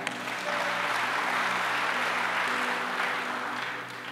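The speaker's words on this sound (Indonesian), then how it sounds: "Yang setuju berikan tepuk tangan" A crowd at a church men's camp gives sustained, even applause, with dense clapping held at a steady level throughout and easing off at the very end.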